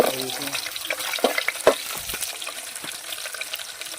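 Onions for a raw jackfruit biryani sizzle in hot oil, a close crackling fry with uneven stirring scrapes and a few louder knocks of the spoon against the pan.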